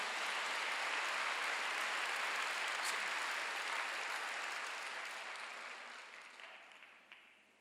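Sustained applause from a large church congregation during a Sunday worship service, a dense wash of clapping that holds steady and then gradually fades toward the end.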